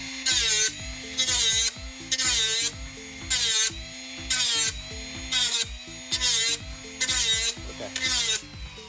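A power tool sanding down a sharp edge in a workshop, loud and close, its buzzing grind coming in repeated strokes of about half a second with a rhythmic on-off pattern.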